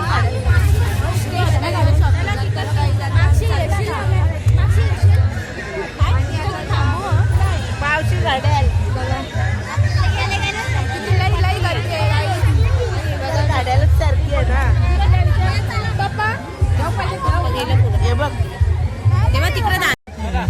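Loud, dense crowd babble at a busy festival shopping fair, a steady wash of many overlapping voices with a low rumble underneath, continuing without pause.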